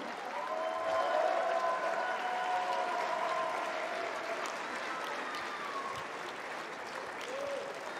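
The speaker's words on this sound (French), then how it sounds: "on peut applaudir encore une fois bien fort Nicolas Mahut." A stadium crowd applauds during a Roland-Garros tribute to tennis player Nicolas Mahut, a dense sustained roar of clapping that stays loud for several seconds with a voice faintly heard over it.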